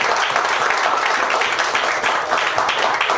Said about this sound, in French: On applaudit mon Dieu plus fort que vous.